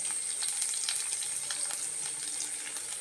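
Ginger and green chillies sizzling in hot oil, giving a steady, dense crackling fry that runs unbroken from start to finish, heard close up with no voices.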